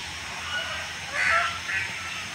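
A couple of honks from geese standing in a line at a distance in the gardens of Sikandar Lodi's tomb in Delhi, two short bursts rising over a low outdoor background.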